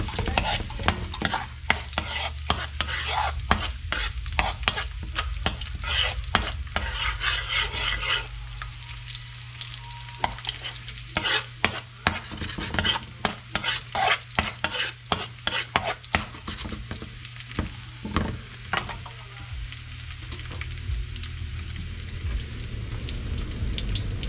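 Garlic sautéing in a pan for bopis, a constant hiss of frying under rapid, repeated stirring and scraping strokes that come in quick bursts, close and fairly loud throughout.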